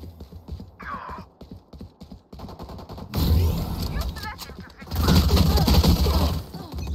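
A Spectre submachine gun firing in the video game Valorant, rapid close bursts of automatic fire in two loud stretches amid scattered game sounds.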